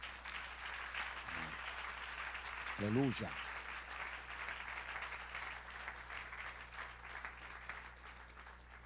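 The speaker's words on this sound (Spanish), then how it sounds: "Dale un aplauso al Señor." A church congregation applauding during a sermon, steady sustained clapping filling the whole stretch at moderate distance, with a brief spoken exclamation over it near the start.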